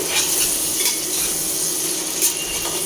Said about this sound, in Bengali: এটা ভালোভাবে কষিয়ে নেব মশলার সাথে